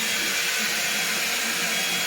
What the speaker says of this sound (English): The new T-Bar hairdryer with the diffuser attachment.